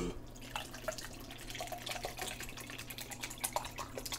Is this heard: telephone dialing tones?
no